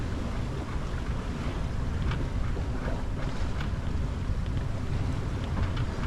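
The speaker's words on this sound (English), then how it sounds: "Now we've got wind." Wind rushes steadily over a sailboat under way in the Solent, a constant broadband roar with water washing along the hull, loud and unbroken, no talking.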